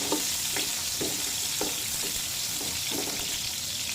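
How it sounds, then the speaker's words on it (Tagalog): Onions sauté in a pan for pork steak, a dense steady sizzle broken by a few soft, evenly spaced stirring scrapes, close up and alone. "Igisa natin ang ating sibuyas."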